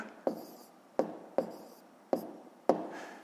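A pen writes a number in a fifth-grade maths exercise, five sharp taps and scratches at uneven intervals, close and fairly quiet, without speech.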